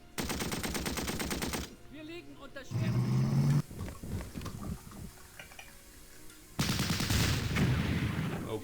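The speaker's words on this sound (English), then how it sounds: "Nice shooting with the Lewis gun." Lewis gun bursts in a First World War strategy game: rapid, dense machine-gun rattles in two long loud bursts with sparse clatter and game sounds between, close and harsh.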